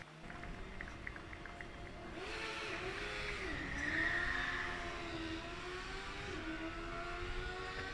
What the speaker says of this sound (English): Now we hear one of the combustion cars,